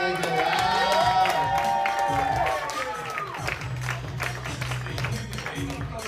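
A comedy club audience at the Punchline applauds and cheers for the headliner: a broad wash of clapping and crowd noise that swells, then settles into steady applause, with a voice and some tonal sound over the opening seconds.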